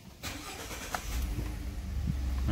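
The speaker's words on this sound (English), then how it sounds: "All right, so now we're gonna turn the truck on." A Ford F-150 pickup engine cranks and starts, a brief starter whir giving way to a low idling rumble that steadies and grows slightly louder, heard close by with no talk.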